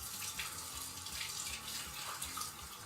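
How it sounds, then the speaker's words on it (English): Water runs steadily from a kitchen tap as hands are rinsed mid-baking, a continuous close splashing hiss with no talk. "Let me rinse my hands."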